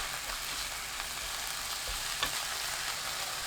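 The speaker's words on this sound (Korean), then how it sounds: "지글지글 소리 나면 그때부터 2분 더 볶아줍니다" Steady, close sizzling of radish greens stir-frying over high heat in a hot pan, a continuous crackling hiss with occasional light stirring noises and no voices.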